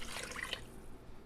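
Water splashes and trickles briefly into an Instant Pot for chicken avgolemono soup, a soft, close pouring sound that fades out quickly.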